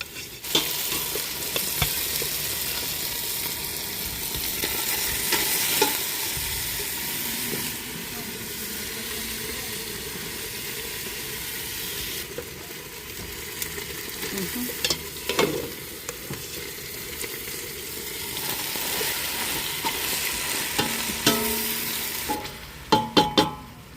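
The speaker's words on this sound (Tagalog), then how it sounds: "nag-isa ako ng konting sibuyas tsaka garlic" Onion and garlic sauté in a pan with a steady broadband sizzle and occasional stirring scrapes, holding close and fairly even throughout, with faint speech in the background.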